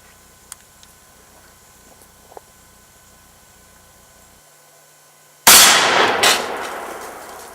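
A .30-06 M2 ball rifle round fired at 50 yards strikes a steel armor plate with one loud, sharp crack and metallic clang, followed by a ringing decay, after several seconds of near silence with faint ticks.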